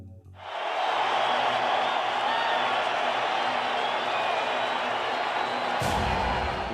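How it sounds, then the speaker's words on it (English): A loud stadium crowd at a Raiders versus 49ers preseason football game, with a dense roar of cheering that swells in quickly and holds steady, and a brief sharp whistle near the end. "The crowd is so loud, you can barely hear the play call"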